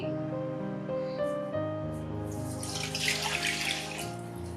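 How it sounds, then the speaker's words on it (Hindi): Milk poured into a pan for a chana dal halwa, a steady liquid stream with a rising tonal pitch as the pan fills, close and continuous. "अब इसके अंदर मैं दूध डाल दूंगी।"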